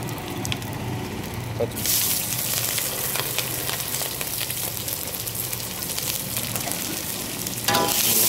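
Curry leaves and green chillies fry hard in hot oil for dosa masala, a loud, dense, continuous sizzle and crackle that swells brighter partway through, with occasional faint stirring knocks and no clear talking.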